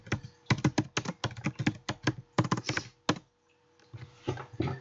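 Quick keystrokes tapping on a computer keyboard as a search is entered in karaoke software, irregular clusters of sharp clicks close up, a short pause, then a few more taps.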